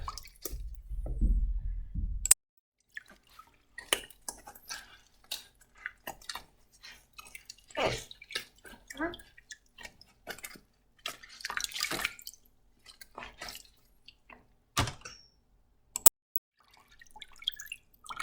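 A Beta 390 RR motorcycle air filter is washed in soapy water, giving close, irregular drips, splashes and squishy wet sloshing in quiet bursts after a brief louder swish at the start.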